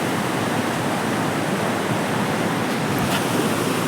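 Sutlej river water rushing in a steady, loud broadband roar, continuous and close with no pauses, like a fast current or small waterfall.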